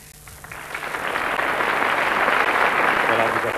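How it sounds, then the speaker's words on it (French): An audience applauds Princess Paola at an evening concert event, the clapping swelling from quiet to a full, steady roar that holds to the end, with some voices mixed in. "applaudie par le public"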